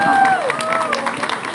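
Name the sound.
crowd applause at a rally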